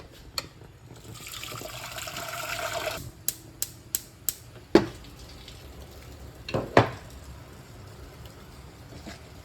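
Beans going into a cooking pot for Hungarian goulash: a rush of pouring, then several sharp knocks and clatters against the pot, close by in a quiet kitchen.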